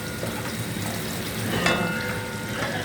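Onions frying in a pan in a home kitchen, a dense, even sizzle that stays close and fairly loud throughout, with a faint stir or clink near the middle.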